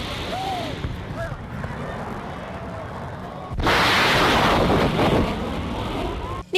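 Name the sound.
explosion-like shock wave from low-flying Mirage 2000 jets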